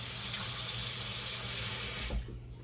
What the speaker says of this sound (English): Put some more water in here.